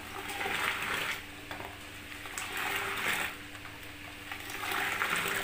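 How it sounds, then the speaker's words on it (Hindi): Rhythmic scraping and swishing of a whisk beating Kashmiri pink tea in a steel pot, steady strokes with brief pauses, close up, no talking. "अब हम इसको फेंटेंगे अच्छे से।"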